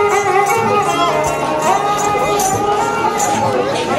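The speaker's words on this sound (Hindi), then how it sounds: "इतनी भीड़ है।" A dense crowd murmurs and chatters at the busy Pushkar market near the Brahma temple, a steady loud wash of many voices with a tune playing faintly through it.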